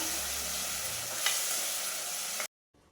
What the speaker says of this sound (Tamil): இது எல்லாத்தையும் சேர்த்துட்டு நல்லா 2 நிமிஷம் போல் வதக்கி விட்டுறலாம்